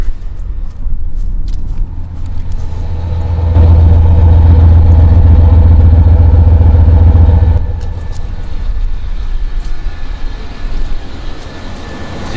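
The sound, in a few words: 1995 Chevy K1500 Z71 truck engine running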